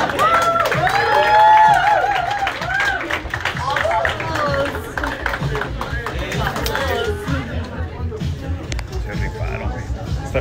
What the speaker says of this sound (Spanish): Fuerte aplauso nuevamente, por favor.